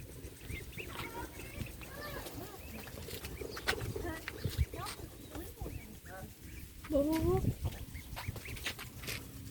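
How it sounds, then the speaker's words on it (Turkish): Small ducklings quack and peep in short rising calls against a noisy outdoor background, with a louder burst of calls near the end. "Ördekçikler"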